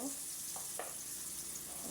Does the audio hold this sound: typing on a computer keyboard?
no